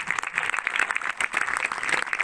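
Audience at a cinema inauguration after renovation applauding warmly during leadership speeches, steady continuous clapping from a room full of people with no talk over it.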